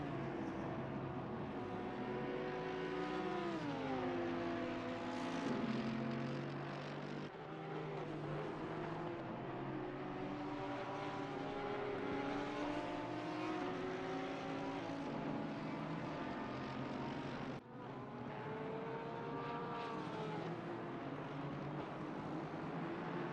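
Audi and Porsche race cars at Imola in a racing game, engines howling and shifting gears as they pass, a continuous loud layered drone with rising and falling pitch sweeps and a brief gap near the end.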